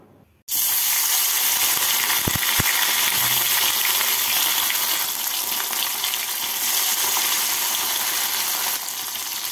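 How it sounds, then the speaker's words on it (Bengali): Bata fish frying lightly in hot oil gives a loud, steady hiss and sizzle that starts abruptly and runs on unbroken, with a couple of faint knocks early on. "তেলটাকে ভালো করে গরম করে নিয়ে মাছগুলোকে হালকা করে ভেজে তুলে নেব"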